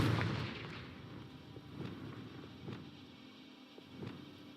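Confringo, the explosive spell in Hogwarts Legacy, goes off as a few fairly faint, booming blasts spaced a second or so apart over a low rumbling background.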